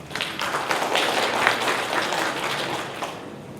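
A conference audience claps to welcome a panelist, the vice president of the Korea Institute of Nuclear Safety, to a panel discussion; even, continuous clapping from many hands at moderate volume throughout.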